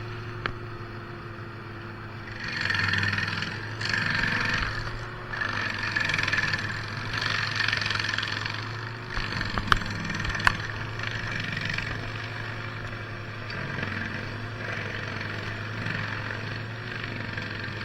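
A stump grinder cutting low into a 24-inch stump, with a constant engine drone beneath bursts of gritty chipping and a few sharp cracks of wood.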